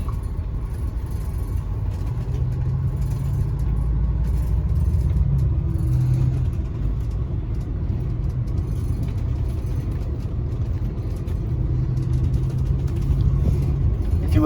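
Interior of a moving bus, a continuous low engine rumble and road drone, steady and fairly loud throughout with no talking.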